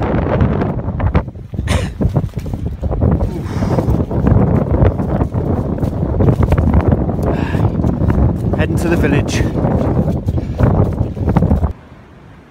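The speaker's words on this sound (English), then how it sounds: "Walking across open ground now, very strong winds." Strong wind roars and buffets the microphone throughout on stormy open ground, with someone talking over the steady gusting rumble until it suddenly cuts away at the end.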